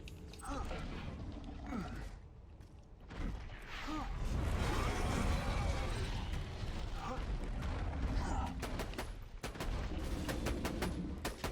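Sniper and weapon fire in Borderlands 2 during the boss fight that kills the Warrior, dense booming bursts with explosive rumble and a run of sharp rapid shots near the end, under a voice.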